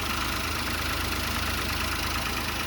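A 2024 Toyota Wigo engine idles shortly after a cold start, running slightly shaky with a steady, even hum and a faint rhythmic pulse throughout, close and continuous with no talking.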